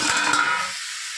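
Chana dal and ridge gourd curry frying in a pan gives a short, bright sizzling hiss. The sound is loud at first and fades quickly to near silence.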